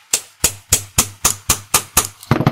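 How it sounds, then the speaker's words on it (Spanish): A hammer taps a metal rod to drive out the broken shaft of an LG washing machine transmission, giving eight sharp evenly spaced metallic knocks up close, followed by a brief clatter. "Yo le pongo un cabo de varilla acá para golpear, puede ser con un martillo"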